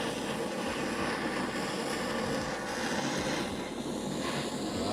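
A gas torch flame roars steadily up close while heating the crankcase of a Peugeot 103 SPX moped engine during a rebuild, a continuous, even, breathy rush with no voices.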